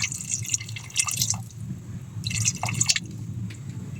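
Vinegar poured into a pot of pork head for Batangas-style paksiw, heard as two bursts of close trickling and dripping liquid separated by a quieter pause.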